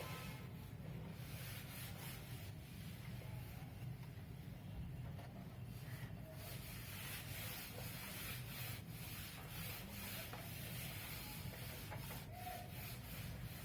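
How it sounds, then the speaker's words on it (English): A board being erased during an English lesson: a faint, continuous rubbing and scrubbing, low and steady for over ten seconds, with light scraping strokes and no talking. "Let me rub this one then. इसको भी मैं erase कर रही हूँ."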